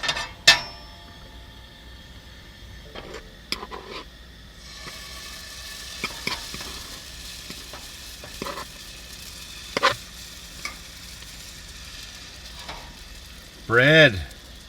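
Bread dough frying in oil during a snowy car-camping night, giving a faint, steady sizzle with scattered crackles and clicks, plus a brief squeak near the end.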